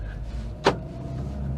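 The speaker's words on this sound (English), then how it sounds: "Doors lock in that annoying way that modern cars tend to." A Dacia Sandero's central door locks clunk shut once, a short sharp mechanical thud inside the cabin over a steady low engine idle hum.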